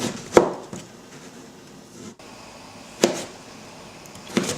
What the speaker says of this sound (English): So now I'm just chopping up the last piece of butternut squash.